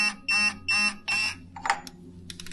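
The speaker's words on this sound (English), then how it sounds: "one thing about this torque wrench is that it starts beeping so early" A digital torque wrench gives four evenly spaced electronic beeps, loud and close, each about a quarter second long, followed by fainter clicks and rattling, during a timing job on a Honda Integra.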